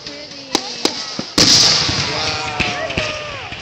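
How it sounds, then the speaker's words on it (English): A fireworks display bursting overhead, with sharp pops and one big crackling boom followed by a sizzling, fading tail, while people nearby talk and react. "How much these fireworks cost?"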